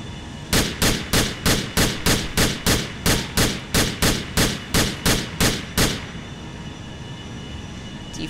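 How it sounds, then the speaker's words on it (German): A Glock pistol in a GTA IV weapon mod fires about fourteen evenly spaced, sharp shots in a steady rhythm, loud and close, then stops, with faint background hum. "Gut, dann als vierte Waffe haben wir eine Glock."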